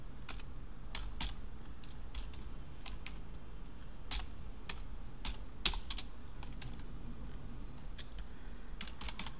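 Computer keyboard keys pressed in quick irregular bursts, crisp close clicks alone over a low steady room hum, with no talking.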